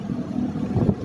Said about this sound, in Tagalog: Lakas ng hangin, Gajimar.